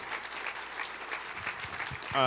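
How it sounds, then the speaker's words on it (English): A round of applause from the audience at a panel on homelessness in California, steady dense clapping throughout, with a voice starting to speak just at the end. "a round of applause for people on the ground who are actually providing service day to day"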